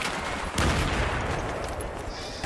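Pistol shots and grenade blasts go off in the video game Battlefield 3. The gunfire is loud and continuous, with a heavier explosive burst partway through and no voices over it.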